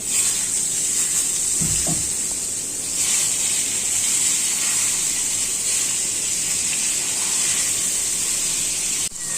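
Pointed gourd (potol) fries in hot oil with a constant bright sizzling hiss, broken briefly by a low rustle of stirring near the start.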